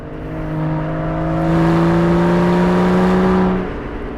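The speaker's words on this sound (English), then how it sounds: "Angry screaming of the V12 is pleasant from time to time" An Aston Martin DB11's V12 engine revs hard, its loud rising drone climbing in pitch for a few seconds before easing off, heard steadily from inside or near the car.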